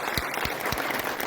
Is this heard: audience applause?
yes